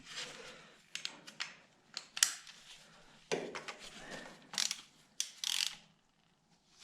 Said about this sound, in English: this is an adjustable oil filter wrench. When you tighten it up, it puts pressure on it and it makes it smaller and closes the teeth.